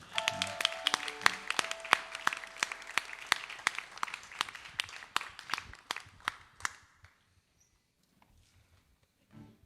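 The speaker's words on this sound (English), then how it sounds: "Give them a round of applause." Audience applause at a concert in the Clifton Opera House, a run of loud distinct claps that thins out and stops after about seven seconds, followed by near silence.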